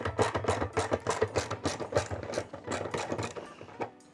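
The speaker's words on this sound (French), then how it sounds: "je prends ma clé de 10, je bloque le tambour et je débloque la vis" A 10 mm wrench loosening the drum pulley screw on an Electrolux washing machine, a rapid series of sharp metallic ratcheting clicks and knocks with no talking.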